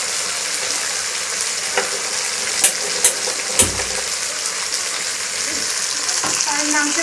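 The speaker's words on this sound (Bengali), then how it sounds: "এই পাশে মাংস দেওয়ার জন্য বসিয়ে দিচ্ছি জল।" Water added to a hot pan for Bengali-style chicken and potato curry, giving a continuous frying sizzle with a few sharp clinks and bubbling splashes, close and fairly loud, with no speech.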